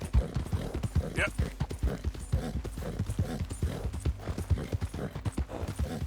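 Horse hooves clip-clop at a steady trotting rhythm in the video game Red Dead Redemption 2, loud and close throughout, with a brief whinny-like tone partway through.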